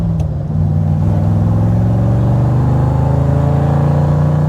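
1966 Chevrolet Corvette Convertible engine idling, a loud, close, steady low burble with a smooth, even rumble that holds constant, no voices.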